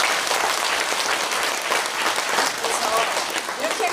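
Steady applause from an audience at a party members' meeting of a local party council in Gimcheon, a dense continuous clapping that stays loud and even for the whole stretch, with no speech over it.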